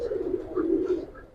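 Giribaz pigeons, a male and a female among them, give a low rolling coo close by, steady and moderately loud, with a couple of faint higher chirps and no speech.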